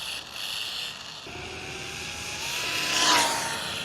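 A mini RC basher car runs at full throttle, giving off a steady high electric whine that swells and rises in pitch toward the end, moderately loud and alone.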